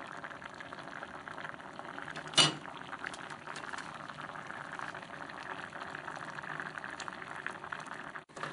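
Kabocha squash simmering uncovered in soy sauce liquid: a quiet, steady bubbling that holds throughout, with a single sharp utensil clink near the start and a soft clatter at the end.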